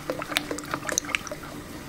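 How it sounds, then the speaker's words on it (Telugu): Curd thinned with water is churned with a wooden churner in a kitchen, giving close wet squishing and sloshing splashes in quick irregular bursts. "దీనిలో కొద్దిగా మనం వాటర్ వేసేసుకుని కవ్వంతో చిలుపుకోవాలి"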